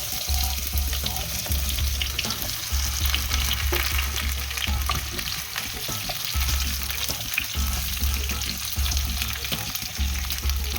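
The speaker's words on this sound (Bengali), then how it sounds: "এবার এই ফোড়নের মধ্যে আমি এই বাকি সবজিগুলো সমস্ত ছেড়ে দেবো" Vegetables for shukto frying in a spice tempering, giving a loud, continuous sizzle and crackle with a low hum pulsing in the background.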